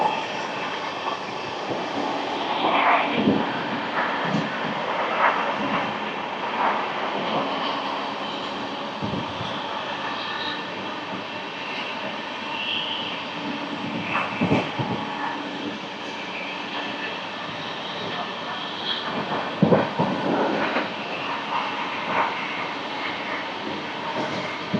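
16103 Pamban Express running at speed, a steady loud rumble and rolling roar of the train with periodic clanks and thumps from the wheels, continuous throughout.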